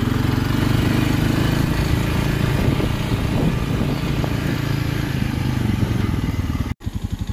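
A four-wheeler ATV engine runs steadily at close range, a loud continuous rumbling drone that holds an even pace throughout, with a brief sharp cut near the end.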